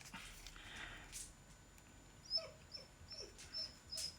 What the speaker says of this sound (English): this is not my dog, this is the dog of my neighbor, which is in holiday